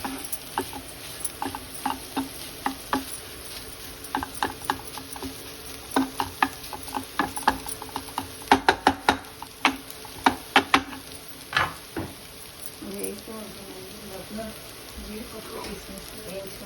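Cashew nuts fry in a pan for sweet pumpkin halwa: a steady soft sizzle runs throughout, punctuated by close, irregular clicks and taps of stirring, busiest in the middle.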